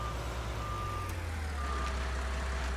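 A truck reversing in the Farming Simulator 19 video game on a forest map, with a steady engine rumble under faint, evenly repeating reverse beeps.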